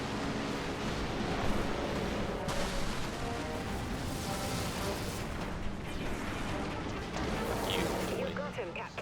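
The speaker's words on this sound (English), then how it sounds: "That big explosion right there" A big nuke explosion in a space combat video game, a dense sustained roaring blast that fills the scene, with people talking over it.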